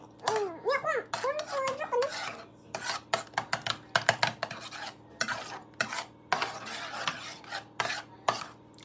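Beaten eggs whisked with a spoon in a bowl, a rapid scraping, clinking rhythm of metal against the dish, close and steady, with a voice speaking briefly at the start.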